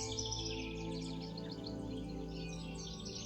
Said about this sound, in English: Notice the birds singing around you.